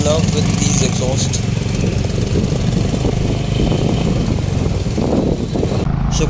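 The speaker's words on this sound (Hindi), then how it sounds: "Listen the exhaust sound, literally I am in love with these exhaust." A Honda Big Wing motorcycle's exhaust rumbles steadily and loudly on a group ride in Uttarakhand, a continuous deep engine drone with voices heard over it.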